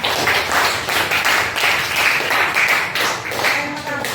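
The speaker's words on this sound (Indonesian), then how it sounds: "Oke, tepuk tangan untuk semuanya." Children in a classroom clap together in a lively, sustained round of applause with overlapping claps, while voices talk over it.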